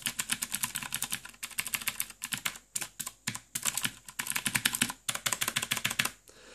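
Clicky blue mechanical switches on a Razer Orbweaver keypad clatter in quick bursts of typing with short pauses between, crisp and close.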